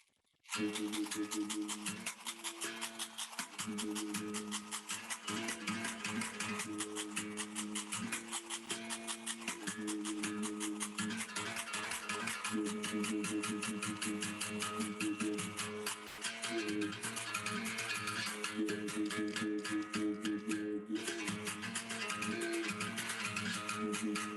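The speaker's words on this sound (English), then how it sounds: "when you play the berimbau in the Brazilian way, it sounds like this" A twangy berimbau played in Brazilian style sounds continuously, a buzzing struck string repeating in a steady rhythm with shifting pitch, close and loud, no talking.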